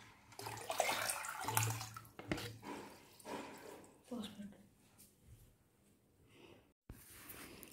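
Water pours and splashes while a new aquarium tank is filled with bacteria-treated water for cycling, a soft, fairly quiet gushing that fades into drips, with a person talking over it.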